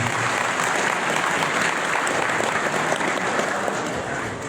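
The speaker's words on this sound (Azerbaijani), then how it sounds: "Alqışlayaq Cənab Prezidentimizi xahiş edirəm" An audience applauds the President at a ceremony, sustained dense clapping throughout, loud and steady without a break, with no speech over it.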